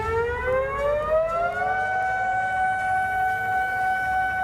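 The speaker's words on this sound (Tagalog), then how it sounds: "Agad na nagpatunog ng sirena ang mga otoridad sa Japan upang bigyang babala ang mga barko sa dagat sa banta ng tsunami" A civil defense tsunami warning siren sounds in Japan, one loud sustained wail rising steadily in pitch, with no voices over it.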